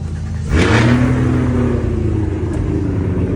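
Several car engines in a home garage fire up and rev, a loud surge at about half a second settling into a steady, rumbling idle that holds through the end, with no talk.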